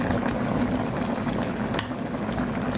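Beef shank bones and cabbage boil in a covered pot, giving off a steady bubbling, hissing simmer that carries on evenly throughout, with one brief clink partway through and no voices.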